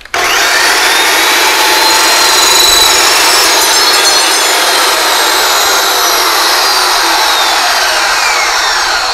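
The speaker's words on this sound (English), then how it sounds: "One of the problems is I wish they would put a brake on the saw." Power saw cutting 80/20 aluminum extrusion, a loud, harsh, sustained high-pitched metallic screech that holds steady for about nine seconds after a sharp start, with no talking.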